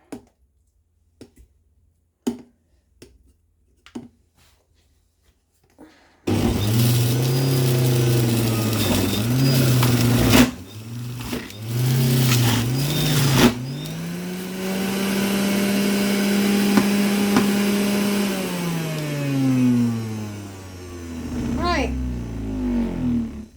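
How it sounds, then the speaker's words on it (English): An electric juicer motor runs steadily while fruit halves are pressed on it, a loud sustained whir that dips and shifts in pitch as each half is pushed down, after a few quiet clicks at the start. "you can actually see the juicing work"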